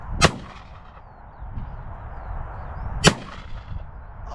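Two sharp shotgun blasts fired at crows and pigeons in the UK countryside, one near the start and another about three seconds later, loud and close against a steady outdoor background.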